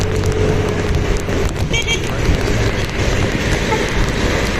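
Rain hisses steadily on a car while it drives through traffic and flooded streets, with a dense continuous wash of noise, a low road rumble underneath, and a brief horn toot.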